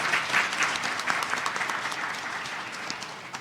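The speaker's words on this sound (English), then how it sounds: "let's give them a round of applause" Applause from an audience welcoming new business-program cohorts at a small business gathering, a steady round of clapping that holds for a few seconds and thins slightly toward the end.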